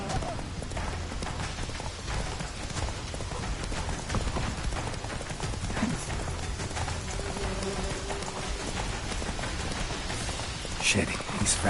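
Roach the horse gallops in The Witcher 3, a steady run of hoofbeats clip-clopping under rainy, noisy game ambience, with voices talking over the ride.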